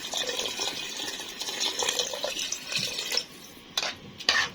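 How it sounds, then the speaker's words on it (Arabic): Warm water poured over rice in a pot while making Egyptian koshari, a continuous close splashing and trickling with a few brief scraping knocks of stirring near the end. "انا معايا ميه دافيه سخنه، تمام. هننزل بيها على الرز كده"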